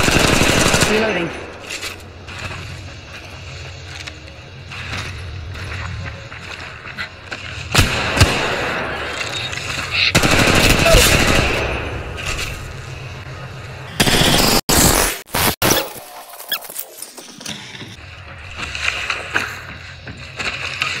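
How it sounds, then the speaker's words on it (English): Game gunfire in Apex Legends Mobile plays as rapid automatic bursts and sharp shots, loud and close, with intermittent speech-like callouts and abrupt cuts toward the end. "Getting shot at. Opening fire."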